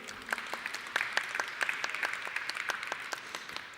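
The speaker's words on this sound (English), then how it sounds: "A round of applause for our nominees." An audience at a design conference award session claps for the nominees, a fairly faint but steady stream of distinct hand claps that stays even throughout.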